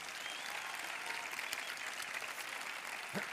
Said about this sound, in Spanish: un fuerte aplauso para nuestras candidatas